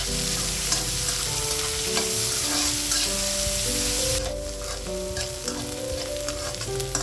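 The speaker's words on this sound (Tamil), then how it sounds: "வெங்காயம் நல்லா கொஞ்சம் வதங்கி கலர் மாறி வரட்டும்" Three large finely chopped onions frying and being stirred in a pan, a loud continuous sizzle with stirring scrapes, and a tonal hum throughout. The sizzle drops in brightness partway through, no voices.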